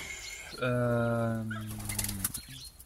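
A turtle dove in an aviary gives a long, loud cooing call, close and clear, with flutters and soft rustling in the background.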